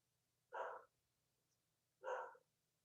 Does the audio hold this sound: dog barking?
yes